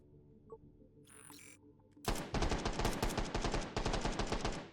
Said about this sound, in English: Do like myself an Uzi. Yeah, just test fire it.